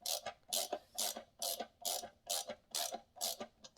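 A brass banjo fitting on a Ghost trap is tightened by hand, giving a steady series of rhythmic ratcheting clicks, about eight even strokes, close and fairly quiet with no talk.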